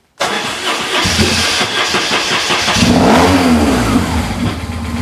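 A BMW R1150 GS motorcycle engine cranks and fires, then settles into a loud, rough idle with some revving, heard up close with no talk.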